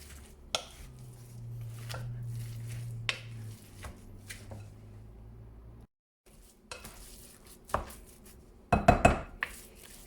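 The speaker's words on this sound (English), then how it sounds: "we're going to mix all these ingredients until they are all well combined" Ingredients for beef stuffed eggplant are stirred together in a bowl, with irregular scraping and clinking knocks and a brief flurry of louder clatters near the end, no talk.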